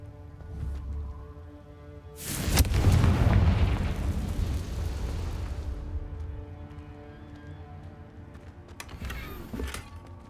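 A loud, close Confringo explosion spell from Hogwarts Legacy lands with a sudden booming blast that rumbles and fades over a few seconds, over a low game ambience, with a smaller burst near the end.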